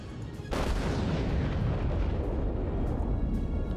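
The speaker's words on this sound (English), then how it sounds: "So let's go ahead and take our first shot." Battleship main guns fire armor-piercing rounds in World of Warships, a sudden loud boom with a long rolling roar that stays up for several seconds.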